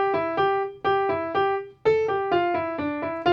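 The opening of This Old Man on a piano, about a dozen plain notes in a steady, bouncy rhythm with a short pause partway through. It is played alone, close and clear.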